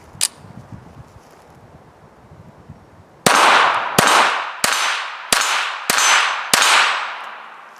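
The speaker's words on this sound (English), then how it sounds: "I want y'all to watch when we both shoot this gun what happens." A Ruger 22 Mark IV Tactical pistol fires six sharp, loud shots in a steady rhythm, each cracking close by with a short ringing decay, after a quieter stretch of faint handling noise.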